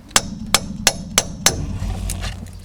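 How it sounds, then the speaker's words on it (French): Five sharp metallic hammer blows on a chisel driven through a wheel hole against the seized rear brake drum of a Hyundai Accent with a stuck handbrake, evenly spaced and close, followed by a low rumble. "je glisse le burin dans un trou de la roue pour aller au contact du tambour et je tape dessus"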